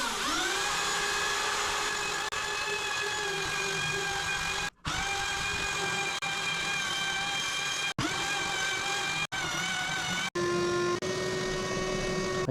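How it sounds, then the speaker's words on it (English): A power sander running on a kitchen table top with 80 grit sandpaper, a loud steady whine with a gritty rasp, close up, cutting off briefly a few times and restarting, with no talking. "I got 1/3 of it sanded with that 80 grit"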